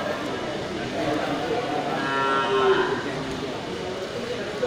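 Cattle at a livestock market where young bulls for fattening are sold, lowing in a drawn-out moo midway through over a steady, noisy market crowd din.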